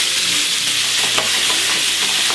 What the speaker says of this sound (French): Avec cette graisse, je vais faire colorer mes ossobuco.